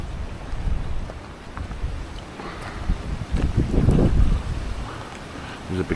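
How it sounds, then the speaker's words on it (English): Strong wind buffets the microphone in gusty, rumbling bursts, swelling loudest midway, with faint water and outdoor ambience underneath, on the coast at Padarn Country Park in North Wales. "It's so windy, guys, but beautiful."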